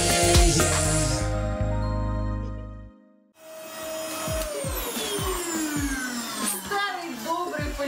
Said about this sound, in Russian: Старый добрый пылесос, как часто у нас выручает быту.